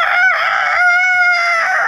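A man imitates a rooster crowing with his voice, giving a loud, close, drawn-out cock-a-doodle-doo call of rising and falling strained tones that fills the whole moment.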